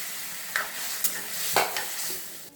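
Chickpea dal (cholar dal) stirred in a pan, a soft continuous sizzle with a few sharp scrapes and clinks of the spoon against the pot at irregular intervals.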